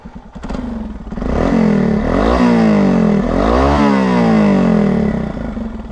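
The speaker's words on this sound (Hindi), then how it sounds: "इसको करते हल्का रेव" A Hero Xpulse 200 fitted with a Hero Karizma engine starts up close by, then gets two light throttle revs that rise and fall over a hollow, throaty idle.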